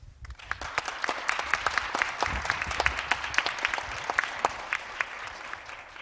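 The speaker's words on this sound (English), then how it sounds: "Let's show our appreciation with a big round of applause for Mr." A conference audience at the 2023 JRTI international judicial conference applauds a speaker with a sustained round of close, crackling clapping from many hands that swells and then gradually thins toward the end.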